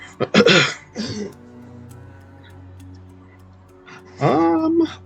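A person coughs sharply twice at the start, then after a quiet pause with a low hum, clears their throat with a voiced, rough cough.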